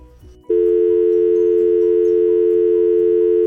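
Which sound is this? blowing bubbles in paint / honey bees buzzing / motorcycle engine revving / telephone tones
telephone tones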